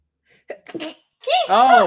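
A close, sharp sneeze bursts out after a couple of small breaths, followed by a brief voiced exclamation.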